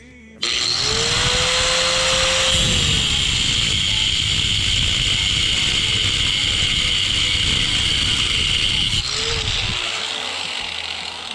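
A cheap Harbor Freight angle grinder runs loudly up close with a steady high whine, starting abruptly and spinning for about nine seconds before winding down, with light rustling at the end.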